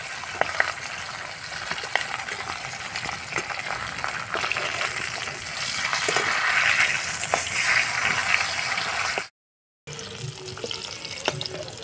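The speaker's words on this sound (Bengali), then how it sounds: "মাছটাকে অল্প ভেজে এপিট ওপিট ভেজে তুলে নিচ্ছি।" Catla fish pieces fry lightly in oil, a steady dense sizzle and crackle running close and continuous with occasional sharper pops, briefly cutting out before resuming, with no talk over it.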